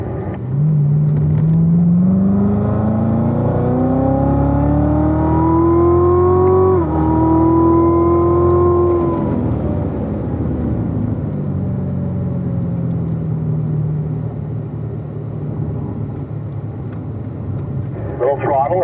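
A race car engine on the Spring Mountain East Track, driven close and loud: the pitch climbs smoothly under throttle, drops sharply on lift, then settles into a lower, fading drone as the car brakes into a corner.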